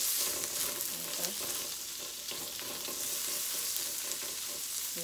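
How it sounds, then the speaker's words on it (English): Shrimp fried rice sizzles in a wok over medium-high heat, a steady close frying hiss with scraping and stirring clatter throughout. "I'm using a wok, guys. I'm frying it on medium high"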